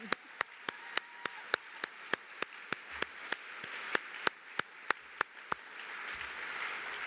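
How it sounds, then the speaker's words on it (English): A conference audience claps for Secretary Haaland in a steady, evenly spaced run of crisp claps, about three per second, faint and somewhat distant, with no talking over it. "So maybe she can hear us if we applaud her again"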